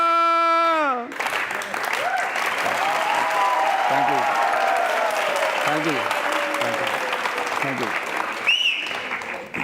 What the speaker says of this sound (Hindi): जनता की तालियां सुन के